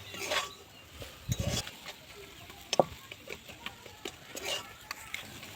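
A potato filling is mixed with chili, chopped coriander and roasted ground spices, giving soft, irregular scraping and squishing strokes with scattered sharper taps of a utensil on the bowl, quiet and close with no talking.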